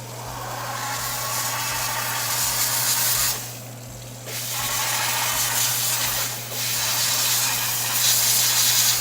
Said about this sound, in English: I rinse the pumice off, and then my steamer, I'm going to steam it off.